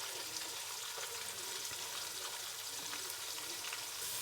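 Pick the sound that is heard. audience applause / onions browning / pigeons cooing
onions browning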